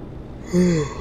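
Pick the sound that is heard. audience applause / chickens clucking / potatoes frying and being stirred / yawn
yawn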